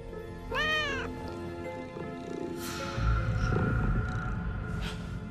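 A cat meows loudly up close with a rising, wavering cry, followed by a quieter trailing call and some scuffling rumble, with no speech over it.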